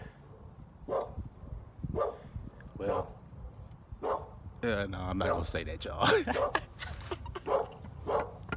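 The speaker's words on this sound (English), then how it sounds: "He's still barking." Dogs bark in repeated sharp bursts at a moderate distance, spaced through the stretch and overlapping someone talking nearby.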